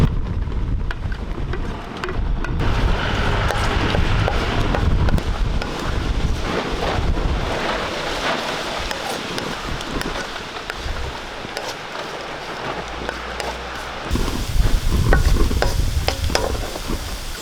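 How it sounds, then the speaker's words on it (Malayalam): Fried bitter gourd going into a gravy in a pan, a continuous loud sizzle with scraping and stirring throughout and a brief bump where the pieces drop in, close to the microphone. "ഇനി ഇതിലേക്ക് നമ്മൾ ഫ്രൈ ചെയ്ത് വെച്ച പാവയ്ക്ക ഇട്ട് കൊടുക്കാം"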